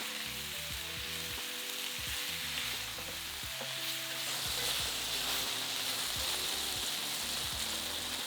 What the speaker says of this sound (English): Add the pork to the casserole pan and fry for 6 to 8 minutes until it's brown on all sides.